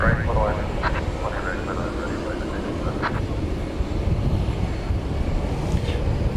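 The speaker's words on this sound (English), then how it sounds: "Moroccan 2804 going out. It's an Airbus A320" Royal Air Maroc Airbus A320 jet departing DFW at night, its engine rumble steady and fairly loud beneath talking voices.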